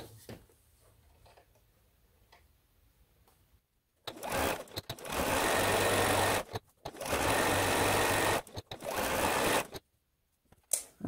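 A sewing machine stitches quilt fabric in three loud, rapid bursts of stitching separated by short pauses, after a quiet stretch with no stitching.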